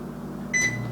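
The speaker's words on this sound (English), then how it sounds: "preheat the air fryer to 400 degrees" An air fryer being set to preheat to 400 degrees gives a steady low electrical hum, then a short bright electronic beep about halfway through, with the hum carrying on after it.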